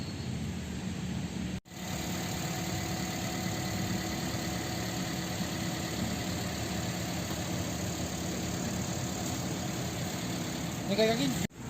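A Toyota Vios Bluebird limousine taxi engine idles with a steady, even hum. The sound briefly drops out near the start, then carries on unchanged.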